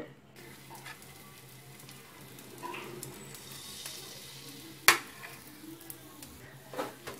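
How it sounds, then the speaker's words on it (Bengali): Pitha batter for patishapta hisses gently in an oil-brushed hot pan over medium-low heat, a soft steady sizzle nearby with a couple of sharp clicks and no speech. "আমি চুলাটা জ্বালিয়ে দিয়েছি এবং একবার একটু তেলটা ব্রাশ করে দিয়েছি আমি এখন একটু গোলা দিয়ে দেব"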